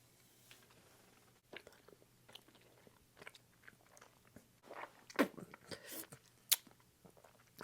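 Someone chews a big wad of Bubble Jug bubble gum up close, making soft, wet, irregular chewing and smacking sounds. A few sharper clicks and squishes stand out near the end, with faint hums between the chews and no talking.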